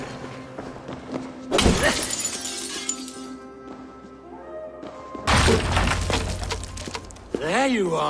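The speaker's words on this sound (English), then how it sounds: "If I break the glass window, I can get into the church." Glass church window shattering in the Assassin's Creed Valhalla video game, a sudden loud crash with scattering debris, followed a few seconds later by a second bright smash burst, with a voice speaking over the game sounds.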